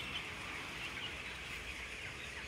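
Chickens in a crowded barn of a factory farm, a dense continuous murmur of soft clucking and squawks from many birds, steady and moderately faint, with no talking.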